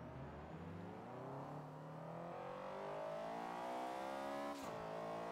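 A car engine pulls hard under acceleration at high speed, around 170 km/h, its harmonic drone rising steadily in pitch over several seconds, loud and close, with a brief dip near the end and no talk.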